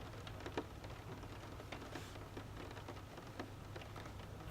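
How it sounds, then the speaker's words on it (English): Rain falling outside a parked car at 5:30 a.m., a faint steady patter on the roof and glass with scattered sharper drops, calm and continuous with no talking. "It's rain. It's raining."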